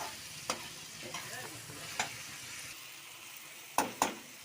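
Onions frying in a pan of chilli powder, a steady soft sizzle with a few sharp stirring scrapes and clinks, the loudest two near the end, no voices.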